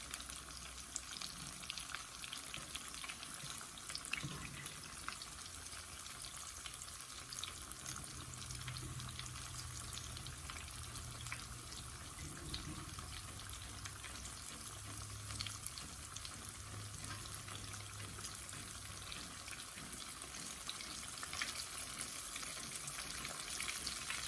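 Jalapeño poppers fry steadily in hot oil, a continuous even sizzle and crackle heard up close with no talking.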